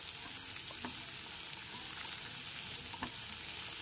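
Mixed vegetables stirred and fried in a pan over a medium gas flame for an oats khichuri, giving a steady, even sizzle with a few soft spatula scrapes, moderately close and without speech.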